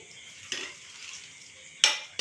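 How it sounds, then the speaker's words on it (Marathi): A mother washing dishes makes a few sharp metallic clinks and clatters of pots against one another, brief and spaced apart, over a faint running-water hiss. "इकडं मम्मीची चालल्यात भांडी"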